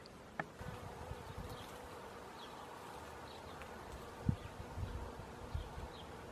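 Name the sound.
honeybees flying around hive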